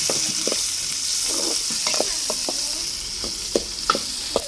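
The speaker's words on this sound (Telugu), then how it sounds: "ఇవి బాగా వేగాలి ఇలా ఎర్రగడ్డ వేగాక" Onions fry for a Telugu chicken curry cooked over a wood-fired stove, a steady close sizzle with scattered light taps and scrapes of stirring, a few sharper clicks near the end, and no talking.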